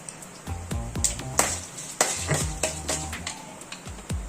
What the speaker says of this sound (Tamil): கடுகு பொரியவும் உளுத்தம்பருப்பும் கடலப்பருப்பையும் சேர்க்குறோம்.